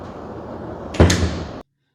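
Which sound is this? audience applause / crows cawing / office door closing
office door closing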